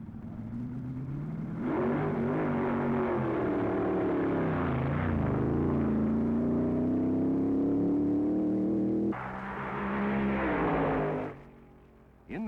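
Drag racing cars at the 1961 U.S. Nationals roar down the track, a loud sustained engine note rising and sweeping across the run, briefly dropping then swelling again before cutting off near the end.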